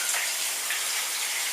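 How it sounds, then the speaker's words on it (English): Homemade beer pours from a jug in a steady, continuous splashing gush with no break, fairly quiet and close, with no voices over it. "we're going to pour some beer to have all our dinner"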